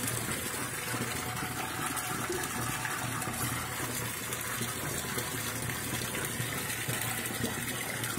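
Water gushes steadily from a newly drilled side borewell, a continuous loud broadband rush with a pump-like hum underneath, close by and without pause.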